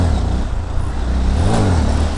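A motorcycle accelerating hard in second gear while trying to wheelie, a loud close engine drone that climbs steadily in pitch with road rumble underneath, no talking.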